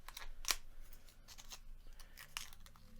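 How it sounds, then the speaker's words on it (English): Foil wrapper being peeled off a cigar in a quiet room, a few sharp crinkling and tearing bursts, close and faint. "Go ahead and start peeling the foil off of this guy."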